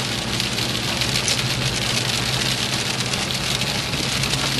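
Heavy rain pours down in Florida, a dense, loud, continuous hiss of drops on surfaces with a low engine-like rumble underneath.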